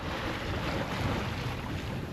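On a sea outing in fine weather, water slaps against a boat hull amid waves, making a continuous broadband wash with rushing wind on the microphone and no talk.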